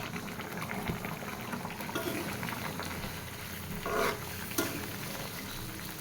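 Fish curry bubbling at a boil in a pot on the stove, a steady soft simmering hiss with occasional louder bubbling swells, close and without talk.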